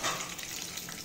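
Cumin and mustard seeds hitting hot oil in a pan while poha is being prepared, a brief steady hiss and crackle of sizzling, close and fairly even throughout.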